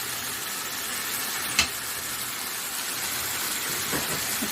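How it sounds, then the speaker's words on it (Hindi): Chicken macaroni masala sizzles steadily in a pan as it is fried and stirred, with one sharp clink of a utensil partway through. "3 से 4 मिनट के लिए मैंने इसको अच्छे से भून लिया है।"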